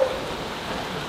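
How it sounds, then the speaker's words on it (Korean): Rain falls on a rainy day as a steady, soft hiss of drops with no other clear sounds. "그래서 이렇게 비가 오는 날이 좋았다."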